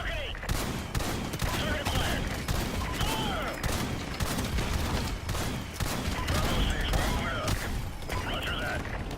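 RPG fire in Call of Duty Modern Warfare Remastered, heard as dense, continuous bursts of gunfire and blasts that keep rolling without a break, loud and close throughout.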